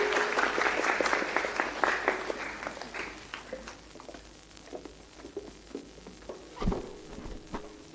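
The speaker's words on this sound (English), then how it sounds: "A big round of applause for this batch" Applause from an audience at a school graduation ceremony, a dense burst of clapping that thins out into scattered, softer claps and then fades.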